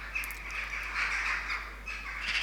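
Magpies call and chatter repeatedly around a plastic decoy, their harsh, agitated cries running almost continuously with brief dips, fairly close and loud over steady outdoor background noise.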